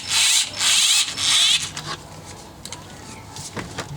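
Screws being driven back into interior trim on a Hyundai i30 FD during an ignition antenna replacement, heard as two bursts of loud ratcheting, whirring driver noise followed by softer scattered clicks and handling sounds.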